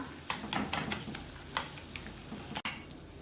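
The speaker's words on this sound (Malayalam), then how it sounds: "ഇപ്പോൾ തക്കാളി വെന്തിട്ടുണ്ട്. ഇതൊന്ന് ഇളക്കി ഉടച്ചു കൊടുക്കാം." A spoon stirs and mashes softened cooked tomatoes in a pot while rasam is being made, giving a handful of scattered light clinks and scrapes against the metal at a moderate, quiet level.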